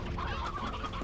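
Chickens on a farm in the video game Slime Rancher give a short burst of close, busy clucking over about a second, with no voices.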